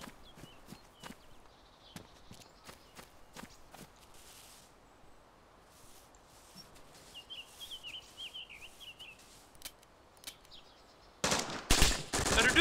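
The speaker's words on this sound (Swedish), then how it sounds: "Är det du som skjuter?" Scattered sharp gunshot cracks in the video game DayZ at a military base, some rapid bursts, over a quiet ambient bed, ending in a loud dense burst of fire.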